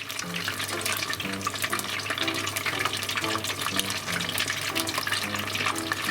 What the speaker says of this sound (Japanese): 衣がサクッとしてこの浮いてくる泡 気泡が細かくなれば天ぷらが完成ですね。